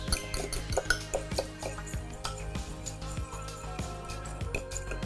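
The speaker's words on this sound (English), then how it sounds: "I'm just gonna mix that up one more time before we add our oats and apples" Microwave baked oatmeal batter being mixed in a bowl with a utensil, producing steady rhythmic scraping and tapping strokes, close and continuous over a low background hum.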